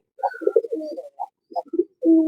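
A pigeon coos in a series of soft, low, throaty notes with short pauses between them, ending in a longer sustained coo; close by and fairly clear with no talking.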